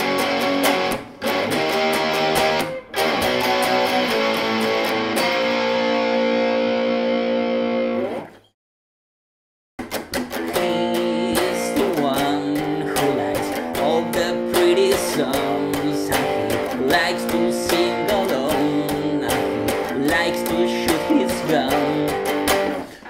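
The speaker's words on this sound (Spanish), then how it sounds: "estoy con la distorsión del ampli nada más" An electric guitar plays through heavy amplifier distortion in loud, dense chords. The roar drops out to near silence for about a second partway through, then the thick saturated playing resumes and carries on steadily.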